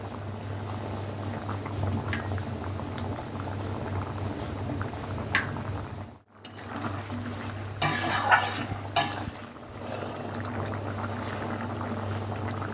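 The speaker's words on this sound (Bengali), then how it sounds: "কাঠি কচুর ঝোল ফুটে গেছে" A prawn and taro curry bubbles steadily in a pot over a constant low hum, interrupted by a sudden brief drop and a clatter of stirring against the pot midway.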